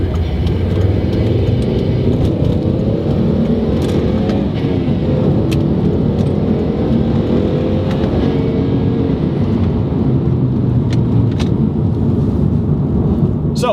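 A Volvo C30 T5 fitted with a K&N Typhoon intake accelerating onto a 45 mph road, heard from inside: a loud, continuous engine drone and road rumble that holds steady throughout, with no talking.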